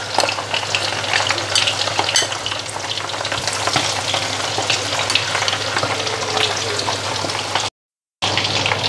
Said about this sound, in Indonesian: percobaan pertama goreng pakai tepung magic saya ya